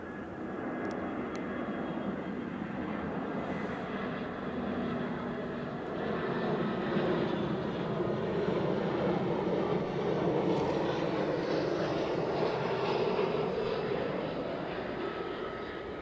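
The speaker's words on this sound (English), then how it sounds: "this is an EasyJet approaching runway" EasyJet airliner on approach to runway 06 at Edinburgh Airport, a steady, fairly distant engine roar that swells slightly midway and continues throughout.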